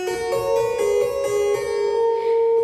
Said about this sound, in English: If you listen to it in a slower tempo, it sounds like this.